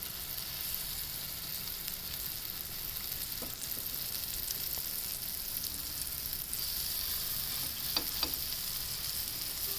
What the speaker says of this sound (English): To pan fry, we'll place kebabs in hot oil and just let them sit for about a minute.